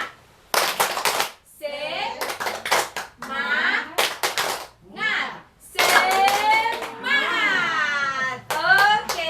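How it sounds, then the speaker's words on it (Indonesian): A group claps a rhythmic cheer in short bursts at a community finance training session, mixed with voices chanting and children calling out along with the beat. "Oke, kita tepuk semangat dulu ya."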